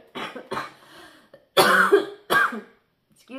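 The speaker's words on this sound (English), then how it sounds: "I laughed and it made me cough." Several short coughs in quick succession, close and fairly loud, with a pause before two harsher bursts.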